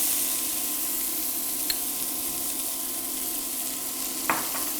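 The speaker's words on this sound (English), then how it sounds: "we're going to add our onions that we chopped" Chopped onions sauté in melted butter in a pan, giving a steady, even sizzle and hiss at moderate loudness, broken by a couple of brief stirring scrapes, with no voices.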